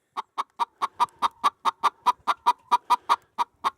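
Hens in a laying box cluck close and loud in an even, rapid series of about seventeen sharp clucks, one after another, with no talking.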